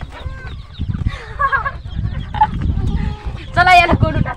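A chicken clucks in short bursts and a louder call near the end, heard in a farmyard with other birds around; muffled voices and background bustle run underneath.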